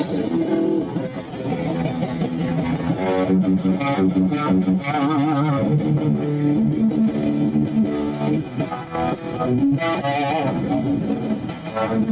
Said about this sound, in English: I was having some trouble with distortion if I turned it up too much